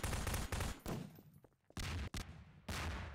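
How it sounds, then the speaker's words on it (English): Gunfire in Garry's Mod, loud close shots in several quick bursts, with short pauses and a brief near-silent gap between volleys. "Yeah, I can hear you firing your gun"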